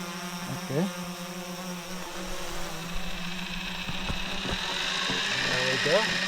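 An Aero Pro fishing drone flies out, its propellers giving a steady, buzzing motor whine with layered tones that holds throughout and swells slightly toward the end, with brief clicks and a faint voice in the background.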